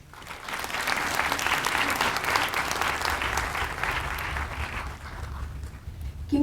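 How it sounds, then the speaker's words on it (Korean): An audience at a North Korean Human Rights Week event gives warm applause: many hands clapping steadily and fairly loud for several seconds, then tapering off toward the end. "이런 의미로 한 번 더 뜨거운 박수를 보내주시기 바랍니다"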